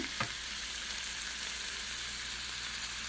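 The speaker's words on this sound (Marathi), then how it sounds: "तेल छान गरम झालेलं तेलामध्ये वडे सोडूयात" Steady, dense sizzle of sabudana vadas deep frying in hot oil, with a brief splash-like burst at the start and an even crackle throughout.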